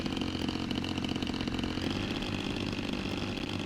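A simulated RC airplane engine in RealFlight, given a little throttle to taxi along the runway, holds a steady buzzing drone at low power, constant and moderately loud, with no talk.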